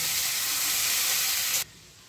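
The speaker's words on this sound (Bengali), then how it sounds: "দিদি যতক্ষণ চিংড়ি মাছটা ভাজছে" Shrimp sizzling in hot mustard oil in a pan: a loud, steady frying hiss that cuts off abruptly near the end, leaving a faint quiet tail.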